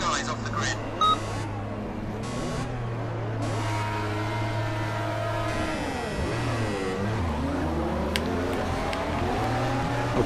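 Audi R18 Le Mans prototype engines in the Project Cars racing game on PS4 hum steadily at idle and rev, with a sustained droning tone, electronic beeps early on, and a pitch shift as the grid gets moving.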